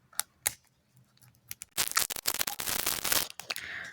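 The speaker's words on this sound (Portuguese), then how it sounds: "eu tô abrindo agora pelo zíper mesmo" A zipper being pulled open on a plastic surprise toy bag: a few soft crinkles, then a quick run of loud, close ratcheting rasps followed by rustling plastic, with no talking.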